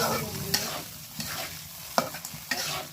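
Vegetable curry frying in a pan while being stirred, a steady close sizzle broken by a few sharp scraping strokes of the spoon, with no talk.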